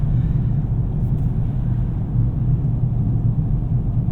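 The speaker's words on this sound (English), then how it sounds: "Can hear a little bit of road noise, but nothing too crazy." Steady road noise and low hum inside a 2026 Ford Maverick XLT pickup while driving, a constant broadband rumble heavy in the low end with no gaps.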